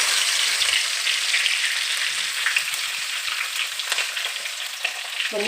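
Curry leaves and fish frying in hot oil for a fish pickle, giving a dense, continuous crackling sizzle close up with no talking.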